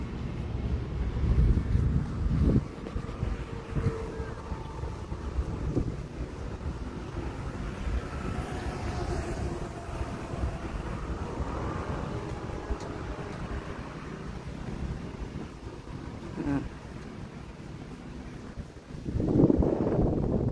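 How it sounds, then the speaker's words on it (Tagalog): Wind buffets the microphone in rumbling gusts over a long stretch, with the low roar of open air outdoors and a few sharp bumps. "Kaya mahangin eh."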